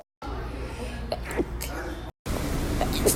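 A person sneezing, a sharp close burst partway through over a background of room noise, broken by a brief dropout before the sound resumes, with a faint voice-like murmur.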